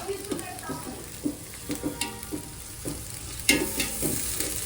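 Onions sizzle in a pan with ginger garlic paste and country chicken in a home kitchen in India, a steady close fry broken by repeated scraping stirs, without talk.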